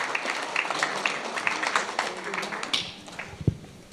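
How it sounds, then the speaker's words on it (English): Applause at a parish council meeting for girls who are state champions, a moderate round of scattered claps and cheering that fades toward the end, with voices mixed in. "one more big round of applause"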